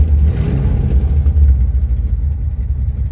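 A 1949 Ford Custom club coupe's 302 V8 idles at about 700 to 800 RPM, a steady close low rumble that keeps an even, slightly uneven throb throughout.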